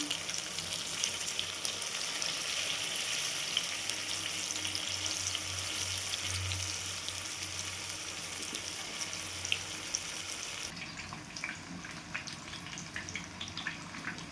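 Stuffed chili bhaji, fasting-style, frying in hot oil: a steady, close sizzle with fine crackling and bubbling runs throughout, with a brief change in texture near the end.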